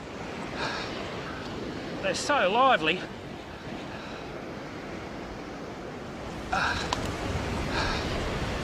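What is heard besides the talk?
waves breaking on a beach while landing a fish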